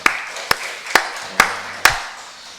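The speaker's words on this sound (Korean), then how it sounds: "우리 살아계신 좋으신 하나님께 박수를 한번 드리겠습니다" A congregation at a Sunday church service claps together in five sharp, evenly spaced beats, each crack loud and close with a brief ring after it.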